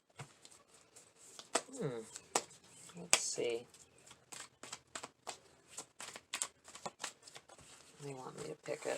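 Tarot cards are shuffled by hand in a quiet room with a series of soft riffling snaps and slides, close and faint, as a person speaks briefly over them.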